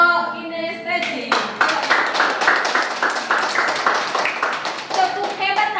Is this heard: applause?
yes